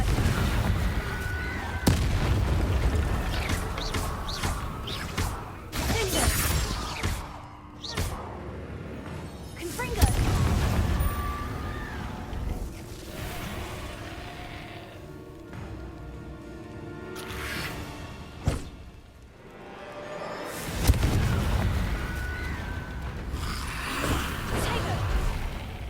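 Blasting-curse explosions in a Harry Potter video game sound as repeated booming thumps and blasts. They vary in loudness through the stretch, with game voices and effects between them.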